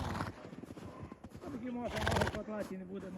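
A horse neighs close by during an outdoor walk in snowy weather, a loud shaky whinny building over a few seconds, with hoof and movement noise around it and a person talking alongside.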